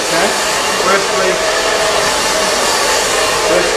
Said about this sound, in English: let's test the hair dryer and think of the hair